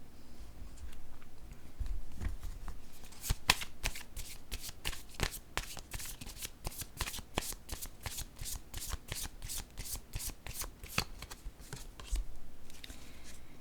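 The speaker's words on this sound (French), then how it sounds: "Je vais déposer une carte sur elle." A deck of cards is shuffled and laid down during a French tarot-style reading, with a long run of crisp, rapid riffling flicks and snaps, close and clear, with no talk.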